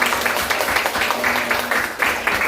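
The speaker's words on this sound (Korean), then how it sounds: "감사의 박수" A church congregation at a Sunday service claps in congratulation, a close, uneven patter of hands swelling and dipping in waves over a couple of seconds.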